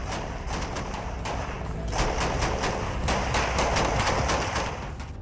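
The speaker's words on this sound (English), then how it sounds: "Ukrainian armored personnel carriers supported the infantry with machine gun fire" Machine gun fire from armored personnel carriers in a fierce combat battle, heard as rapid, dense bursts of shots that carry on steadily and loudly through the whole stretch, with no talk.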